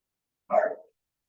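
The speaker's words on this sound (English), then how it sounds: "If you hear my dogs in the background, I apologize." A single short dog bark, fairly close, stands alone in otherwise silent surroundings.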